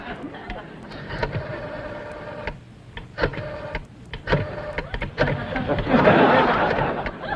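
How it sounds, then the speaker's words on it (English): A rotary telephone dial whirs and clicks back several times in irregular bursts, close and fairly loud, with faint background noise between spins. "You have to stick your finger in them holes and spin her a while."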